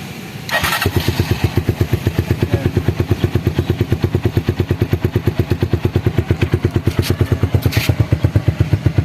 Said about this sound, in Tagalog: tinanggal ko yung busal niya para mas lalong makahinga yung makina. Yeah, sound check natin.